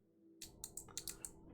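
A mechanical keyboard with loud switches is typed on in a few quick clacks, close up but quiet overall, around six crisp keystrokes in an uneven burst with a faint hum underneath.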